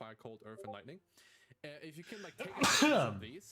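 A person talks, then a loud, close sneeze breaks out near the end.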